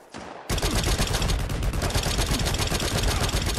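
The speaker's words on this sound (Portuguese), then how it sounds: "tô levando tiro" Rapid automatic gunfire in the video game Shattered Skies, a dense, loud burst of repeated shots that starts abruptly and hammers on without pause.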